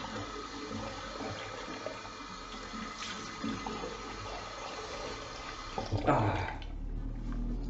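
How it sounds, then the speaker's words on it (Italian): Running water from a tap splashes steadily as someone rinses alum off their face after a close shave, a continuous near wash that swells briefly louder toward the end before cutting off. "Adesso mi risciacquo così tolgo l'allume dal viso."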